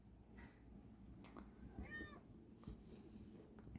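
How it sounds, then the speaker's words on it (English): A house cat gives a faint meow in a quiet indoor room, one short call among soft background rustling. "Hi, kitty."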